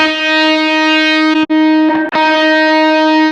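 Electric guitar run through a blues amp-sim preset, playing a sustained, distorted chord that rings loud and steady, briefly cut twice by quick re-strums before ringing on again.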